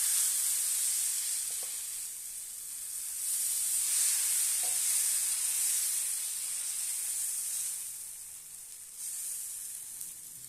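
Sweet banana dosa batter sizzles on a hot pan, a steady bright hiss that swells and eases slightly, with a couple of faint utensil taps and no talking.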